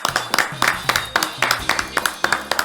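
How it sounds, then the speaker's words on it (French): A television game show audience claps for a contestant in a steady rhythmic beat, with sharp bursts of hands striking together in time, loud and close. "Applaudissements pour Jean Roland."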